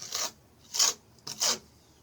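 A plastic spreader presses a thin skim coat onto a wooden gravestone in three quiet, rasping strokes, each a short scrape separated by pauses.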